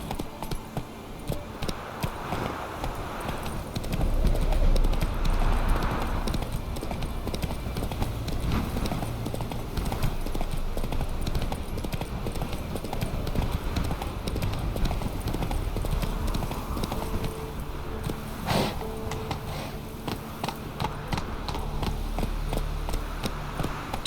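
A horse gallops in The Witcher 3 video game, with steady rhythmic clip-clop hoofbeats running continuously at moderate volume under ambient game sound.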